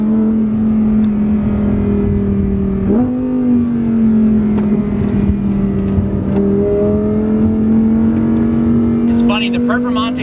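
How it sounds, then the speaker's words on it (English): Lamborghini Huracan Performante driving at moderate speed, a loud, close, steady engine drone with a brief rise in pitch early on, then holding an even hum throughout. "The Performante does have a distinctly different sound from the normal Huracan."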